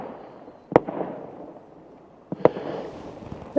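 Two distant firework bursts thump a couple of seconds apart on the shore at Nells Point, Barry, each followed by a brief crackling tail over a low outdoor hum.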